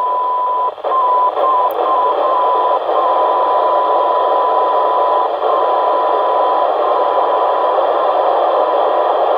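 A radio signal comes in on a handheld radio as a steady band of hiss with a faint continuous tone, heard at close range with no talk.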